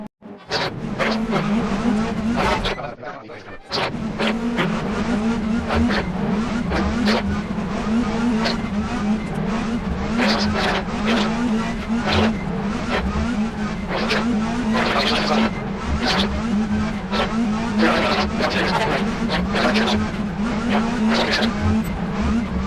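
Touring cars race in the RaceRoom sim, with a steady, loud engine drone and bursts of tire squeal and skidding running almost unbroken, apart from a brief dip near the start.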